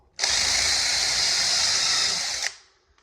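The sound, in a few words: power drill drilling into wood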